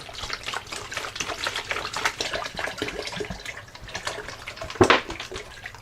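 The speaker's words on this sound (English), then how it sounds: "And we're just going to dump it in our tub." A gallon jug of distilled water is poured into a tub, a gurgling, splashing stream with uneven glugs that ends in a brief louder splash near the end.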